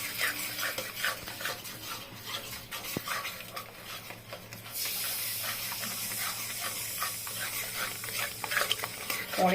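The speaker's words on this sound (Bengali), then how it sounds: "এখন আমি খুব নাড়ব, গ্যাসের ফ্লেমটাকে কমিয়ে দিব।" Yogurt curry with pointed gourd being stirred in a pan over a lowered gas flame, a continuous close hiss and sizzle broken by steady scraping strokes of a spoon.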